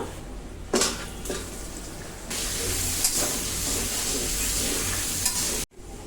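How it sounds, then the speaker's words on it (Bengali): Potatoes coated in salt and turmeric go into a hot pan and set off a loud, steady sizzle, with a brief clatter of stirring before the frying hiss swells and holds. "এখন হচ্ছে লবণ হলুদ মাখা আলুগুলো দিয়ে দেব। আলুগুলো হচ্ছে ভেজে নিব।"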